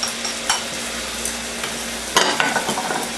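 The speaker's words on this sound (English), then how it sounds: "give it a stir" A spatula stirs red snapper sarciado with tomatoes and green onion slices in a hot frying pan, giving a loud close sizzle with several scraping strokes and clacks against the pan.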